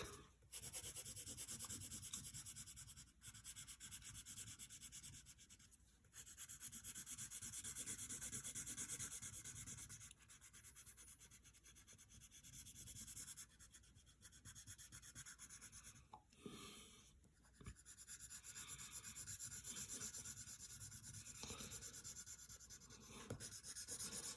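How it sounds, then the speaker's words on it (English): Pencil side shading a drawing on paper, coloring in a cartoon character's shirt, heard as continuous close scratchy rubbing strokes with brief pauses, alone without talk. "you can take the side of your pencil and color her shirt black"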